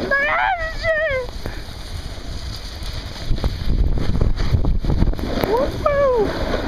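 Strong gusting wind on a ski slope at Ski Sawmill buffets the microphone with a low, rough rumble that swells in the middle and end, under excited, high-pitched voices calling out.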